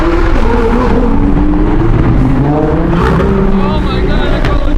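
A Lamborghini Aventador SV drives past loudly on a cold street, its engine roaring and shifting pitch as it moves along, close and prominent throughout.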